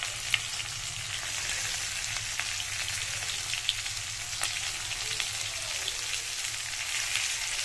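Vegetables dusted with turmeric powder fry in a hot pan and are stirred, giving a steady, close sizzle with occasional light utensil scrapes and clicks, with no voices.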